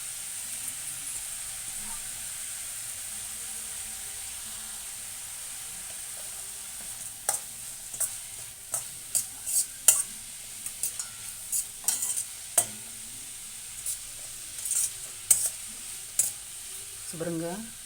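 An egg mixture with salt, turmeric, green chili and grated ginger fries in a pan, giving a constant soft sizzle and hiss; from midway a spoon scrapes and stirs in repeated short strokes that grow busier toward the end.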